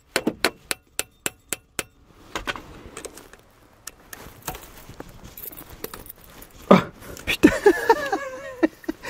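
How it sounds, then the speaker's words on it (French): A series of light, evenly spaced hammer taps on the metal ignition lock of a 1990 Iveco Daily with a stuck key rings out close by, followed by scraping, clinking and a few heavier knocks. "Voyons si avec des petits coups de marteau ça aide."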